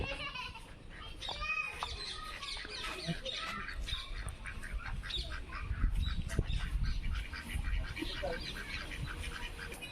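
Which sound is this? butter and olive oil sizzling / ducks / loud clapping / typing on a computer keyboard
ducks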